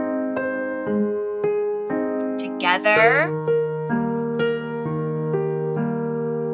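Slow piano rendition of a song, steady sustained chords with a low left-hand bass line and melody notes over it. A brief vocal sound interrupts midway, and a voice speaks over the playing.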